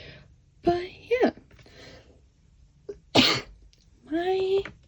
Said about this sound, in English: I don't know why this cough won't go away.